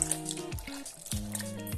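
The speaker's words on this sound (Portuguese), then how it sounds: "Agora vou juntar a massa." Dry pasta tipped into simmering broth in a slow cooker for a rustic pasta stew, giving soft wet drips and squishy splashes in a quiet kitchen, with a low hum running underneath.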